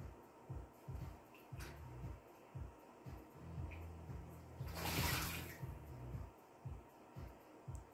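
A pet bird bathes in a dish of water, with irregular bursts of close, faint splashing and fluttering and one stronger splash in the middle.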